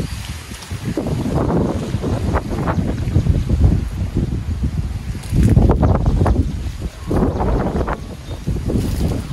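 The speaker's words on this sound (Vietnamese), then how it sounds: "Bữa nay cũng hơi gió nhiều các bác." Gusty wind blows steadily through a coffee plantation at Farm 52 in Eakar, Dak Lak, buffeting the microphone with loud rumbling surges that swell and ease, stronger bursts near the middle and end.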